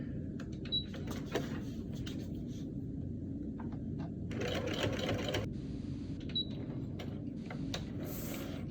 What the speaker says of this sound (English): you're going to want to sew that seam approximately 1/4 to a 1/2 inch in